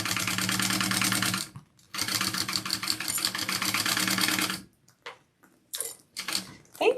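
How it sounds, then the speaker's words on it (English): Close, rapid mechanical stitching from a sewing machine basting two layers of bonded poly nylon fabric, running in two long bursts separated by brief pauses, then stopping with a few clicks and small handling sounds. "I'm gonna baste these two layers together"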